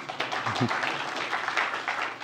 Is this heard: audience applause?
yes